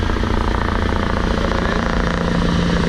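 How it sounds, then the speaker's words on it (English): An air ambulance helicopter flying nearby, a loud continuous rotor and engine drone with a steady rhythmic chop, heard from a light aircraft's surroundings with no other sounds. "There's the air ambulance helicopter just appearing there."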